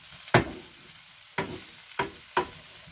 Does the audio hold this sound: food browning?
yes